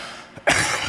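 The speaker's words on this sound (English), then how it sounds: "I'm finding a little bit of a cough." A speaker at a conference session gives one sharp cough after a short throat sound, loud and close, followed by a brief rough tail with no talking.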